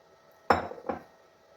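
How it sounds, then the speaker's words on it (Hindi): Two sharp metallic clanks sound close by, a loud hit followed by a softer one, as jaggery is dropped into a metal cooking pot while making peanut and almond rewari. "और अब उसी बर्तन में ये मैं गुड़ डाल दूंगा"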